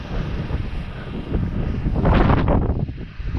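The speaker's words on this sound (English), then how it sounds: "it's a breezy day" Gusting wind buffets the microphone on a breezy day at the North Pier, a continuous loud low rumble that swells into a stronger gust around the two-second mark before easing, with no voices.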